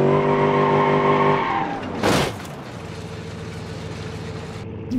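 A car in the BeamNG Drive driving game, its engine droning and then dropping away before a sharp tire skid squeals out about midway, followed by quieter rolling and rumble.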